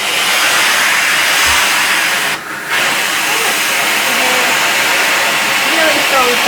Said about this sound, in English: really strong suction, the hair just comes up